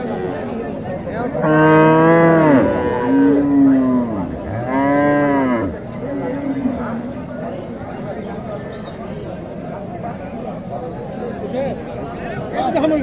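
Cattle at a rural cow market in Naogaon low and moo loudly twice near the start, long drawn calls rising over a steady murmur of crowd chatter and people talking throughout.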